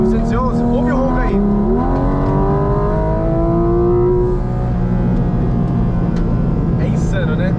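A Porsche 718 Cayman GT4 RS with a mid-mounted engine roars loudly, rising and shifting pitch through revs before settling into a steady drone, with talk audible near the end.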